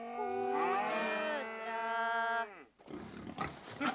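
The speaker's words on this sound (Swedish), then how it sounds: "8 kor och 3 kvigor." Cows and heifers on a farm at Katthult moo in long, loud, drawn-out calls that run together, then give way to a short stretch of rustling and low farmyard noise.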